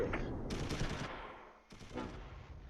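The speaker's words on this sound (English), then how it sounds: "There's our mortars." Mortar fire in the World War II strategy game Close Combat III, two rumbling explosive bursts about a second apart over a continuous low battlefield din.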